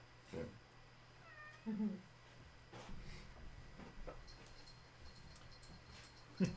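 A cat gives one short, soft meow, fairly close, amid a quiet room with scattered small bumps and knocks.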